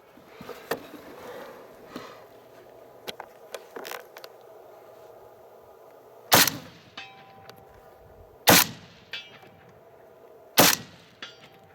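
Rifle rounds, 7.62x39 fired from a RAS47 or CMMG Mutant, strike steel targets through brush in three loud, widely spaced metallic clangs that ring briefly, with faint quieter knocks earlier.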